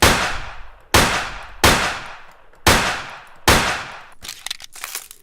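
Five sharp, loud Webley revolver shots from Garry's Mod ring out one after another, each decaying into a short echo, with a trailing burst of metallic clicks and rattles at the end.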